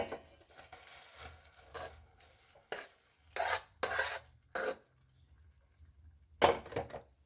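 Cashews and pepper powder being stirred into pongal in a pot, soft scraping and a few sharper clinks of a spoon against the pot, quiet and close with pauses between strokes, no talking.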